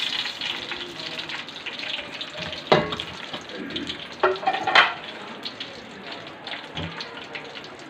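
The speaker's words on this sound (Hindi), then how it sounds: "अब हम सारी सेवइयाँ इसमें उठा के डाल देंगे और इसको 2 से 4 मिनट तक फ्राई करेंगे।" Thin vermicelli (semiya) frying in a pan over low heat, a soft steady crackle with a few louder clinks and scrapes of stirring scattered through.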